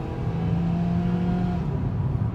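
A 2012 Honda Civic engine revving up into VTEC, a steady rising drone that holds strong and even from inside the car, with no one talking.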